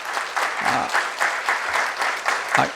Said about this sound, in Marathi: अशा या विनायकासाठी आपण सर्वजण जोरदार टाळ्या